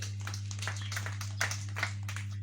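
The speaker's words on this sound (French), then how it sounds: "Applaudissez pour vous-même." Scattered, uneven hand claps from a small group, fairly quiet, over a steady low electrical hum.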